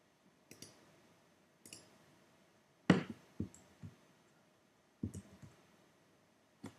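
Sharp computer mouse clicks sound one at a time at irregular intervals, some in quick pairs or triplets, close and fairly quiet against a silent room with no speech.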